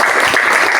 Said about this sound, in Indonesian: Sebelumnya kasih tepuk tangan dong buat kelompok 2.